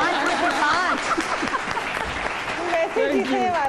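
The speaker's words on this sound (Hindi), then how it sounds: "तालियां होनी चाहिए।" Studio audience applauding on a Pakistani Ramzan special morning show, a steady dense wash of clapping throughout with voices and laughter mixed in.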